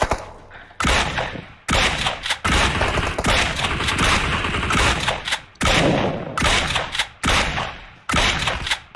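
Dense bursts of automatic gunfire in PUBG, loud and close, coming in repeated sustained volleys separated by brief pauses, with no talk over it.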